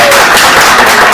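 Applause at an INAS Portugal community program, a loud, dense, continuous clapping from a crowd, steady throughout with some talking mixed in.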